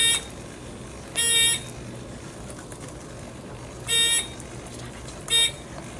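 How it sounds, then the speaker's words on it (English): A littleBits buzzer set up as a ship crash alarm gives three short, shrill electronic beeps, spaced unevenly, against a quiet background. "it will set a crash alarm off"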